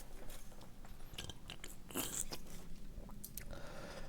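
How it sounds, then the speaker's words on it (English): Several wet gulping swallows of whiskey, close and fairly loud, spaced in quick succession with small mouth and throat noises between them. "That was 4 gulps of whiskey."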